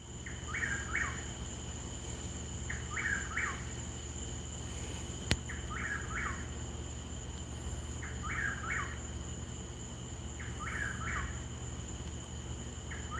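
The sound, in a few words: whippoorwill calling at night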